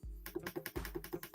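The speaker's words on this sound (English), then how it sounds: "What was all that tapping? That's me clicking." Quick, crisp clicks at a computer, a rhythmic run of about a dozen close taps like a mouse or keys being pressed in steady succession.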